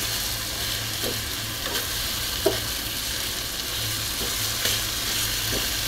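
Taro leaves (kochu shak) fry in a pan with a dense, even sizzle, close and steady, broken by a few soft stirring taps and clicks. No one speaks.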